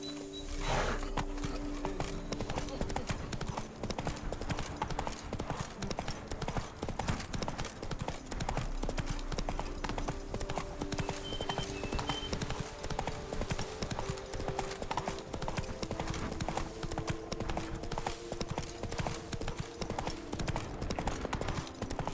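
Horse hooves clip-clopping at a steady walking rhythm in The Witcher 3, close and continuous throughout, layered over faint game ambience with no talking.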